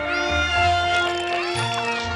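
Cartoon cats meow in a steady, overlapping chorus of drawn-out, wavering calls that stay moderately loud throughout.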